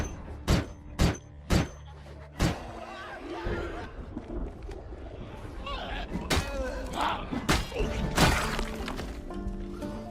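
Several sharp, loud rifle shots from a military sniper rifle in the zombie survival game Project Zomboid, four spaced cracks up front and more later, over a busy bed of in-game noise and some talking.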